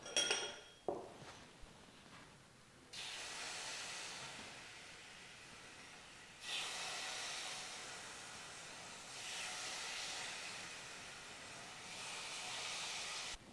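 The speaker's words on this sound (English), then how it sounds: "Now that the pan is super hot, I take 2 of my sweet and sour figs, cut in 2 and caramelize on the pot." Halved sweet and sour figs caramelize in a very hot pan, giving a steady sizzling hiss that flares up in loud bursts and holds near and continuous, with a couple of brief knocks at the start and no talking.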